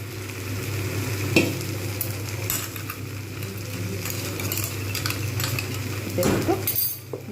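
Poppy seed paste frying briefly in a pan for vegetarian Bengali aloo posto, with steady low sizzling under repeated stirring scrapes and occasional spoon clinks against the pan.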